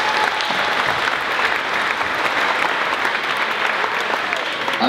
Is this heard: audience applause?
yes